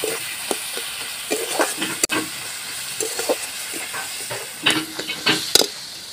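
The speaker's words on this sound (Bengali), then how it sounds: "ধনে গুঁড়ো দেব, মৌরি গুঁড়ো দেব, দিয়ে আর একটু কষিয়ে নেব।" Ground coriander and fennel powder sautéing in a pan for a green-mango curry, giving a steady hiss and sizzle broken by irregular scrapes of the stirring spoon, with one sharp clack midway.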